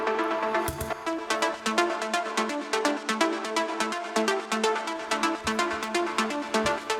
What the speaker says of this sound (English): So therefore you have the pluck and the lead, so together they sound like this.